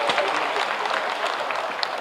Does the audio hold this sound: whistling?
no